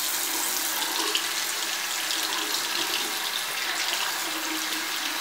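Tap water runs steadily into a sink while a Kanger ProTank vape tank is rinsed under it, a constant close hissing splash with no speech.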